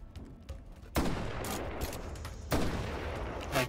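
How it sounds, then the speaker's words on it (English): Two loud, close shotgun blasts in the VR game Hot Dogs, Horseshoes & Hand Grenades, each a sharp boom with a lingering rumble, spaced about a second and a half apart over faint background noise. "Shotguns."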